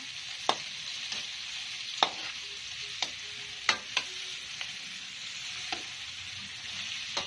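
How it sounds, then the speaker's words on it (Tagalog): A spoon stirs shrimp in a hot frying pan, with scattered sharp scrapes and taps over a constant soft sizzle, loud and close, with no talking. "At hahaluin po natin."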